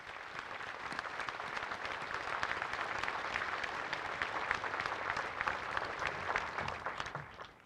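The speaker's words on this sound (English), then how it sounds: "Let us offer them a round of applause for their eternal courage and sacrifice." Sustained audience applause at a Pearl Harbor remembrance ceremony marking the 84th anniversary, a dense steady clapping from a large crowd that holds for several seconds before tapering off at the end, with no talking over it.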